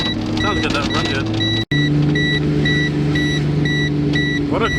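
A VR6 engine idling in a Mk4 Volkswagen after an intake manifold swap: a steady, close engine drone with a brief dropout, a faint rhythmic high-pitched chirping pattern over it, and occasional voice-like sounds.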